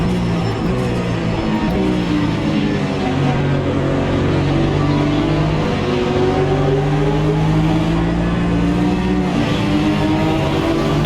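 Porsche Cayman race car in the AMS2 racing game, its engine droning loudly and continuously with rising and falling revs through gear changes, close and dominant for the whole stretch.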